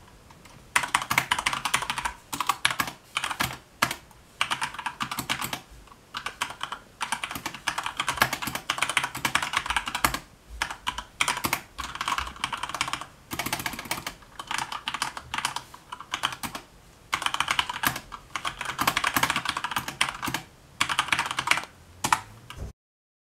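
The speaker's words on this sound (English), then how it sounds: "here's a sound test. I'm just going to be typing." Fast, continuous typing on a Corsair K70 mechanical keyboard with Cherry MX Red switches, clicky keystrokes in rapid bursts with brief pauses, close up and fairly loud, no voices.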